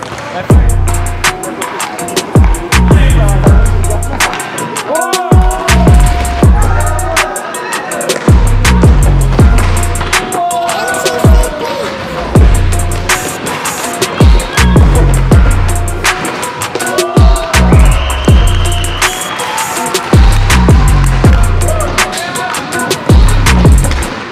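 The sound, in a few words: hockey players shouting and banging sticks against the boards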